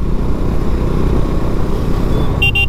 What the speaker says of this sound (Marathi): बुलेटवाला कसा चालवतोय